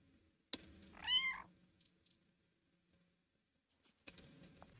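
A cat in the video game Timelie lets out a single clear, drawn-out meow after a short click, followed by quiet and faint soft shuffling sounds.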